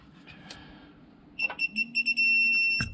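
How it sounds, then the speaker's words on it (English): A digital torque wrench on a 2012 Hemi 1500 engine beeps while tightening: a brief click, then a run of rapid close electronic beeps that merge into one solid sustained tone before cutting off. "So that rapid beep means we were getting close. The solid beep means that we are there."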